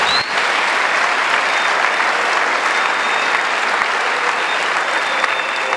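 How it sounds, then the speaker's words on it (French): A large crowd at an evangelism and deliverance crusade in Douala claps loudly and steadily, a dense, continuous wash of applause that holds at full volume from start to finish. "Let us clap for him."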